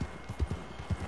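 Horse hooves clip-clop at a steady trot in Red Dead Redemption 2, with soft, evenly spaced thuds over a constant background wash.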